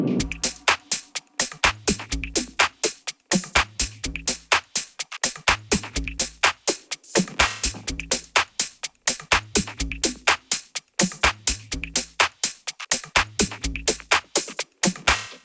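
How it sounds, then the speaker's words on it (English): Minimal deep tech groove built on a looping kick and hi-hat pattern, with sampled drum fills breaking in every few bars; punchy, steady and alone without any voice. "So with the drum fills, the groove now sounds a bit like this."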